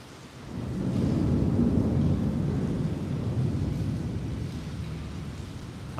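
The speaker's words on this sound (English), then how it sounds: "Hearing that thunderstorm?" Thunder rolls in a long, deep, steady rumble with the hiss of rain, swelling after a quiet start and sustained loud and near throughout, alone with no voices.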